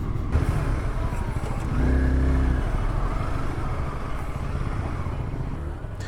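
A motorcycle rides a winter mountain road from Shimla to Narkanda, its engine droning low and steady with rushing wind noise, swelling briefly around the second mark; no voices are heard.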